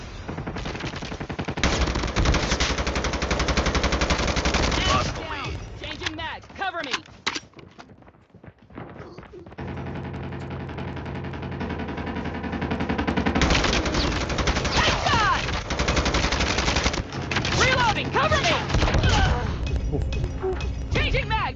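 M4 rifle fire in the Call of Duty Mobile game comes in loud, rapid bursts with a short quiet break in the middle, and a voice talks over parts of it.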